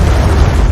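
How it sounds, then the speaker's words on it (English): A loud, sustained low rumble from an underwater explosion that blows up a mining operation and sets off a rock slide in a shark movie, with dense bass energy filling the whole stretch and no clear pauses. "he blows up the mining operation"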